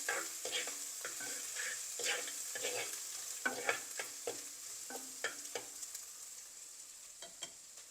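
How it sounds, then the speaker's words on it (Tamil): Onions sautéing with ginger-garlic paste in a pan for vegetable biryani: a steady sizzle broken by repeated sharp scraping stirs of a spoon against the pan, close and fairly loud, with no talking. "இப்போ இதில் வெங்காயத்தை சேர்த்து வெங்காயத்தை வதக்க போகிறோம்"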